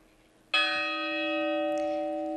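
A church bell in Zamora during Holy Week strikes once with a sudden loud onset, its metallic tone ringing and sustaining clearly as a smaller bell answers in dialogue, nearby and alone without talk.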